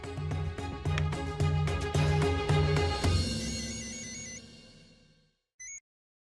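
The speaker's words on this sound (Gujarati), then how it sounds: "હું જ રાકેશ કુમારને ફોન કરી દઉં." A phone plays a loud melodic ringtone close by as a call is placed, repeating rhythmic tones for a few seconds before fading out, followed by a brief beep.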